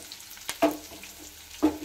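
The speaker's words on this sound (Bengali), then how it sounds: "রসুনটা ভাজা ভাজা হয়ে এসছে।" Crushed garlic with green chili fries in hot oil, a soft crackling sizzle broken by a few sharp stirring knocks, quiet and close with no voices.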